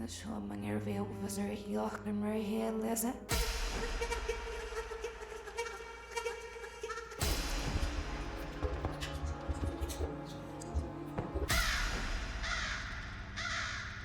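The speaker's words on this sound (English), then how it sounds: "Birds." Crows caw in the video game The Stanley Parable Ultra Deluxe, loud repeated harsh calls over a layered ambient game soundtrack that shifts abruptly a few times, with a voice faintly present.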